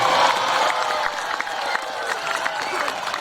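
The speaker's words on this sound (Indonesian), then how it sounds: "Mari kita tepuk tangan." An audience at a boarding school anniversary evening gives applause, a moderate, continuous patter of clapping mixed with crowd murmur and some voices.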